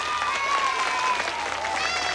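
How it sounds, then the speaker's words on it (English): A studio audience applauds during a 1980s children's TV magic act with the puppet Sooty: dense, steady clapping fills the whole stretch at an even level, with faint tonal music lines running beneath it. "Let's give him a clap for doing that"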